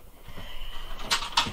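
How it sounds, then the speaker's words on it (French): A door pushed shut indoors, two quick knocking bumps close together near the end, with dogs audible in the house and a faint background hum. "je ferme la porte."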